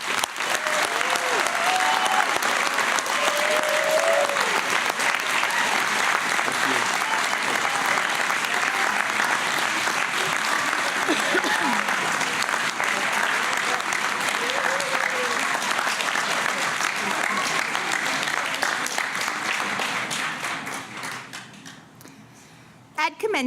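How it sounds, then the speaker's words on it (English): Sustained audience applause for eighth graders rising at a 2017 middle school graduation ceremony, a dense steady wash of clapping lasting about twenty seconds before tapering off near the end. "All eighth graders, if you would rise and receive our applause on your job well done of finishing middle school."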